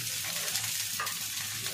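Green chillies and cubed onion fry in hot oil in a kadai, giving a short burst of dense, close sizzling with a faint stir partway through.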